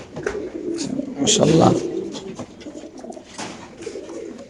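A male racing pigeon coos in a caged loft, soft repeated coos up close, while someone speaks over it.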